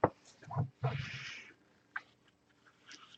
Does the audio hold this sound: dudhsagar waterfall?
no